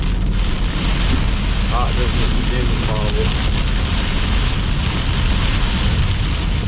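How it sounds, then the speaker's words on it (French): Heavy rain pours steadily during a thunderstorm while storm chasing, a dense, loud hiss of drops hitting surfaces throughout, with a person briefly speaking French partway through. "c'est des orages plus de pluie. Pluie, vent fort, mais il n'y a pas de grêle là-dedans"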